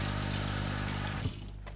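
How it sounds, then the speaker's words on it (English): Tap water runs steadily into a sink while hands are washed, a close, loud hiss that cuts off near the end, leaving faint drips. "I'll just wash my hands super quickly."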